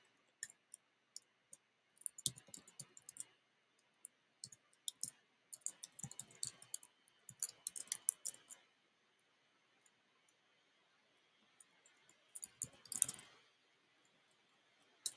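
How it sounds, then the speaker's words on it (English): Computer mouse clicks while software packages are installed in a Python programming setup, sharp dry ticks coming singly and in quick bursts, close and quiet, with no talk. "you can just highlight it and then click on install packages."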